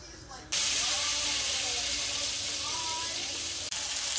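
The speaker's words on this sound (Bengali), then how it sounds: "প্যানে একটু বাটার দিয়ে দিলাম" Butter sizzles loudly in a frying pan ready for fish, the steady hiss bursting in abruptly after a quiet half-second and continuing close and constant, with a faint voice beneath it.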